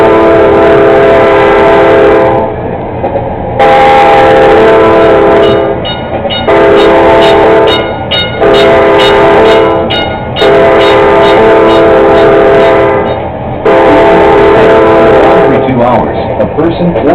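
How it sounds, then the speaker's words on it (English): Norfolk Southern locomotive horn in a train simulator game, sounding a crossing pattern of loud, sustained blasts separated by short gaps, with a rhythmic rail clatter running underneath and a voice speaking over parts of it. "they must blow the horn 4 times, making 2 long sounds, one short and another long"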